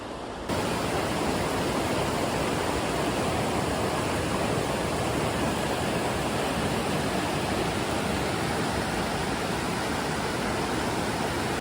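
Steady, loud rushing of the Dungeness River flowing near a former bridge site on a mountain trail in Olympic National Park, a dense continuous roar with no voices.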